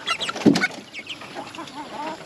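Farmyard chickens cluck close by in a short burst of clucks and chirps, one louder squawk near the start, then softer scattered calls against quiet rural background noise.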